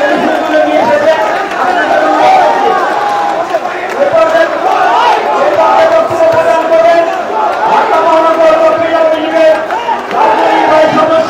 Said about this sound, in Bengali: নেতাকর্মীরা কিন্তু তাদের স্লোগান দিচ্ছেন এবং একে একে জড়ো হচ্ছেন